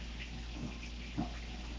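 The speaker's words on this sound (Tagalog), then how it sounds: "Maglagay ng tubig sa isang kaldero at lagyan ng asin" Water runs steadily from a tap into a cooking pot for pasta, a continuous low splashing rush with a low hum underneath and no talk.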